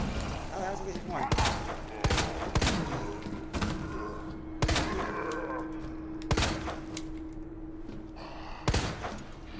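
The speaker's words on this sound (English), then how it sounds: "I did just waste several fire grenades" Fire grenades launched from a grenade launcher at zombies in Resident Evil 2 Remake, a series of loud booming blasts spaced a second or two apart over game ambience and low groans.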